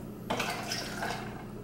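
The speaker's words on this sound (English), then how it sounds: "I'm gonna pour it in here." Lemon juice pours into a container, about a cup's worth: a faint splash and liquid gurgle begin suddenly and continue with light clinks, close and quiet.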